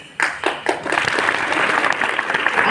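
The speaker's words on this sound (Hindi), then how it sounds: "आपने ताली क्यों बजाई?" An audience at a success celebration event in Delhi breaks into applause, a few scattered claps quickly swelling into dense, sustained clapping from a large crowd.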